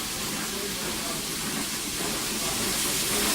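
Seasoned sausage sears in a hot pan, giving a loud, steady, broad hiss that holds evenly throughout the short moment.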